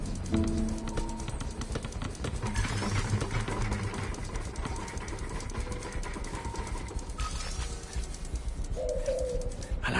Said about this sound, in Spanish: Esa paloma es fuerte.